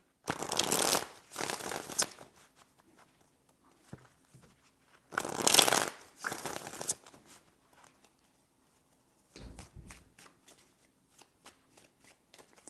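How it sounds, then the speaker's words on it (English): Tarot cards being shuffled by hand in three separate bursts of quick riffling, close and crisp, with quiet pauses between them. "Three shuffles."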